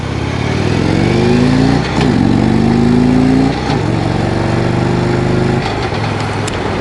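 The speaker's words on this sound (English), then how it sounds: "Accelerates real nicely." A 2016 Harley-Davidson Road Glide Ultra motorcycle accelerates hard through several gear shifts, its engine note rising in pitch and dropping briefly at each shift, loud and close with steady wind noise.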